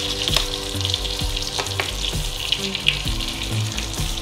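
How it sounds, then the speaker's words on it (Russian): Schnitzel frying in oil in a pan, a steady close crackling sizzle with small pops and faint clinks, heard alone without voices. "Пусть у нас все жарится, парится."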